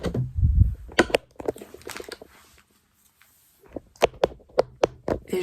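Light tapping on a small Logitech computer keyboard, quick scattered keystrokes close up, with a short quiet pause before a final burst of taps.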